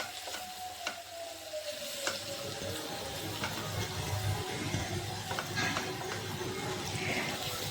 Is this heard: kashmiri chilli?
yes